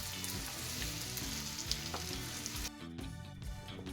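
Dates sizzle and crackle as they roast in a pan for khajur pak, a soft, close frying sound with occasional stirring scrapes and clicks.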